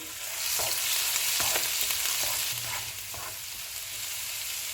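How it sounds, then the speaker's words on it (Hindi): Ginger-garlic paste sizzles in hot oil in a pan, a steady broadband hiss with a few soft stirring clicks scattered through, moderately close and alone with no voices. "अदरक और लहसुन का पेस्ट डालेंगे, इसको भी 30 सेकंड तक फ्राई करेंगे"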